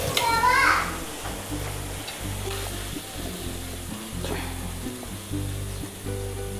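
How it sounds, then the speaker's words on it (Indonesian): Shrimp frying in a pan for a sambal udang dish, a continuous close sizzle with occasional stirring, while someone talks and children's voices play in the background. "ini agak lama kita goreng ya, biar dia betul-betul masak"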